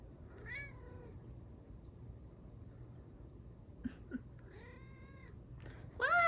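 Cats meowing after being scared by a downpour, a few near, wavering meows in two bursts, the last one louder, over quiet room noise.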